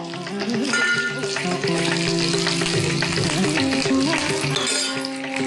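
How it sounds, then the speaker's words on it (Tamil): Onions sizzle and crackle loudly in hot oil while tempering with curry leaves for a Tamil dish, a dense continuous frying hiss with some stirring, no voices. "வெங்காயம் தாளிக்கலாம்"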